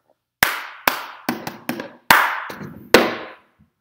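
Close, sharp hand claps and cup hits in a cup rhythm game ring out as about six crisp strikes in an uneven pattern, each decaying quickly into the quiet room, with no talking.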